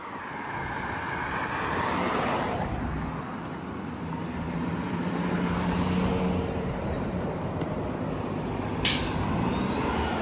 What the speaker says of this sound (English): There's a not in service bus.